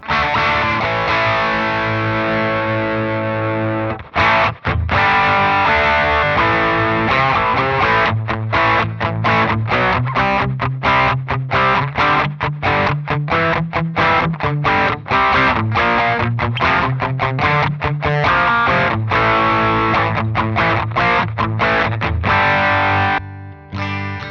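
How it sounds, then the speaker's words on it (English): Electric guitar through an MXR Sugar Drive overdrive pedal into an old single-ended valve amp, with gritty clipping, steady sustained chords then choppy rhythmic strumming, loud and continuous throughout. "use the actual overdrive from the clipping inside the pedal to get the the drive sound you want"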